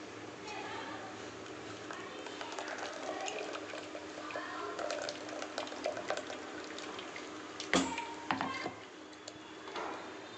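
Ground coconut is strained to draw off coconut milk, a faint trickle and splash of liquid with a few taps and clicks, running under a low background hum.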